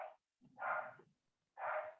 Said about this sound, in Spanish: No sé si se escucha un perrito.